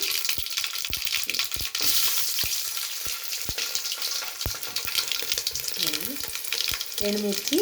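Dried red chillies, seeds and garlic sizzle in hot oil as a tempering for rasam, a loud continuous frying hiss broken by sharp pops and crackles, with brief stirring toward the end.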